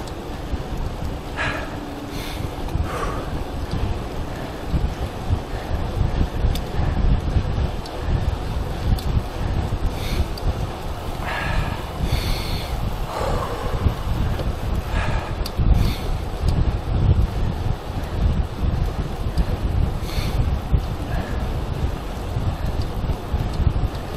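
Wind buffeting the microphone while riding a fifty-year-old Mercier bicycle on a track, a constant low rumble with faint rustles and brief gear or mechanical clicks scattered through.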